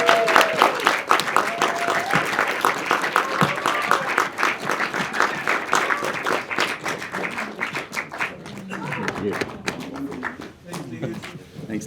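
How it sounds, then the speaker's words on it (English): An audience at a film showcase and Q&A night applauds, with dense, continuous clapping that holds steady and then thins toward the end. Voices mix in under the claps. "Big round of applause."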